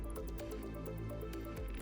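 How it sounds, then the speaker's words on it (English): Medical gel squishes and drips as it is poured from an applicator into a treatment patch, a soft, faint wet sound close by with no one talking. "Pour the entire gel into the patch."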